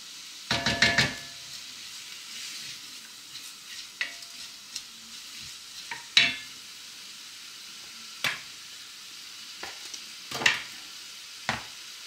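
Food frying in a pan while cooking beef bourguignon with peas, heard as quiet sizzling with scattered sharp scraping knocks of stirring at irregular intervals and no talk.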